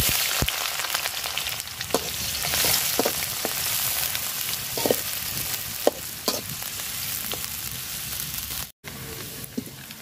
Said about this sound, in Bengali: পেঁয়াজটা লাল লাল করে সুন্দর করে ভাজা নিছি।